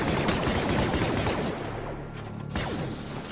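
Rapid gunfire rattles through a fight in Deathtroopers, a fan-made Star Wars zombie horror video game, dense and loud bursts that ease slightly midway, with no voices.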